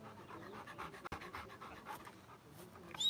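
A dog pants up close at an outdoor museum fiesta and car show, steady quick breaths running nearly three seconds with a brief sharp knock partway through.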